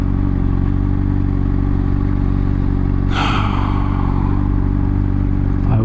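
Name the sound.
Honda CBR600RR motorcycle riding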